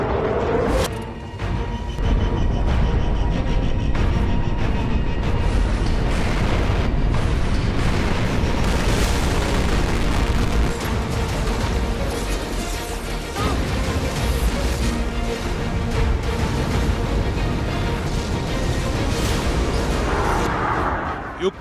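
Bomb blasts amid war destruction in Ukraine, heavy continuous rumbling booms and crashing bursts layered into a dense, loud roar that barely lets up for over twenty seconds.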